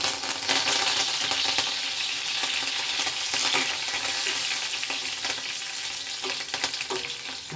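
Curry leaves crackle and sizzle in hot tempering oil for curd rice, a dense, steady frying hiss with small pops that holds close and constant throughout, with no voices.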